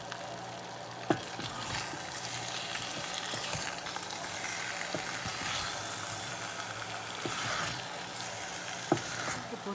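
Boiled potatoes and green peas stirred into an oily masala curry in a pan, giving a steady close sizzle and frying hiss with occasional spoon scrapes and knocks against the pan.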